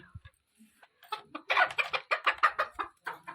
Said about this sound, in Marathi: तो कोंबडीने अंडा घातले